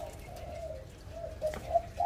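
A wild dove coos softly at a distance, its low, hollow calls repeating several times over a faint background hiss.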